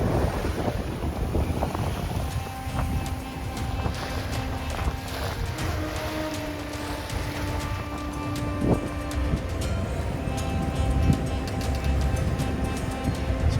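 Steady wind rushes and buffets across a sailboat heading into the wind at sea off Formentera, a continuous broadband roar with faint creaks and knocks of the boat, no voices.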